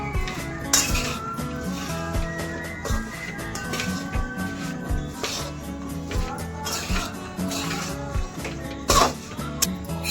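A spoon stirring coriander powder and homemade masala in a metal cooking pot for drumstick and bean curry, with rapid repeated scraping and clinking of metal on metal, close and continuous.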